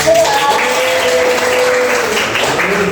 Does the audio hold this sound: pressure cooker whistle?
no